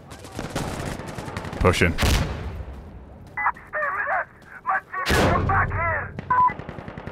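Rapid gunfire in the tactical shooter Insurgency Sandstorm, with heavy-recoil bursts and single cracks between clusters of rattling shots, close and loud, with a voice talking briefly between them.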